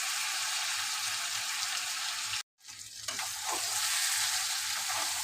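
Mutton and spices sauté for mutton kosha in a steady, loud, close sizzle that cuts out abruptly for a moment, then returns with stirring scrapes and resumes its dense hiss.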